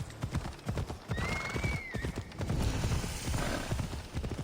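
Horse hooves clip-clop in a steady galloping rhythm throughout, with a brief whinny, in the Assassin's Creed Odyssey video game; close and fairly loud against faint ambient noise.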